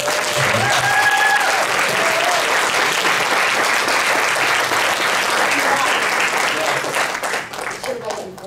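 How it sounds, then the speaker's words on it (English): Sustained, dense applause from a convention panel audience honoring Hall of Fame inductees fills the space for several seconds, loud and even before tapering off at the end. "please give them a round of applause."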